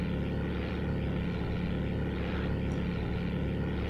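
A PZL Koliber propeller plane in the FlightGear flight simulator drones with a steady, even engine hum and airscrew whir, continuous and moderately quiet, with no voices over it.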